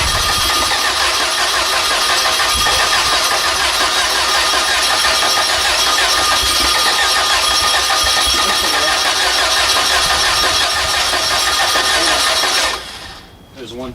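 A gaseous-fueled engine is cranked and fires, running loud and continuous with a rough, knocking rumble before abruptly cutting out near the end; voices are heard.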